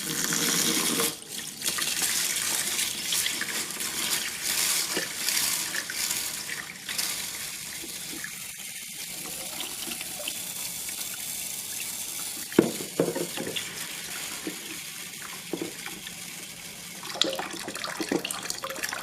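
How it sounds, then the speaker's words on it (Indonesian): Water runs from a tap as mung beans are rinsed clean in a bowl, with a steady loud stream, splashing and swirling, and occasional knocks and clinks of handling through the rinse. "lalu kita cuci bersih kacang hijaunya"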